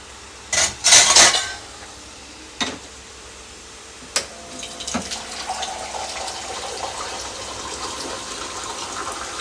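Water is poured into a pan of paneer gravy on a kitchen stove, with a few sharp clinks of utensils at the start, then a soft steady splashing and sizzle that continues to the end.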